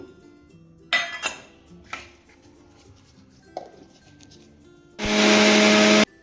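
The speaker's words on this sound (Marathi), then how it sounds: "आता आपण पहिल्यांदा एक मिक्सरचं भांडं घेतले आता त्याच्यात आपण हे वाटण वाटून घेऊ" A kitchen mixer grinder whirs briefly near the end as it grinds coriander, green chili, garlic and ginger into paste, loud and steady for about a second, preceded by a few clinks of the jar and lid.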